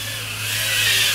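A TinyWhoop FPV drone flies indoors, its tiny motors giving a steady high-pitched whine that swells slightly over about a second, close and loud with no talking.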